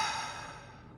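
A single slow, deep exhale of breath, close and soft, fading out over about a second.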